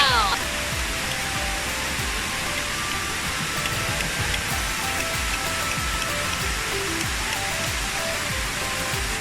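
The Khun Mae Bei waterfall in the hills of Tha Song Yang, Thailand, gives a steady, close, full rushing roar of falling water that never lets up.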